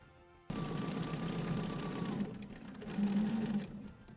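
A sewing machine stitching shadow details onto fabric starts abruptly and runs in a fast, steady buzzing drone, close and loud, with a brief change in pitch midway before continuing.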